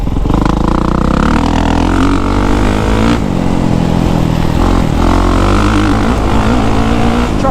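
A 2023 Kawasaki KX450SR motocross bike engine, loud and close, holding a high, raw revving drone that rises and falls with the throttle, running continuously throughout.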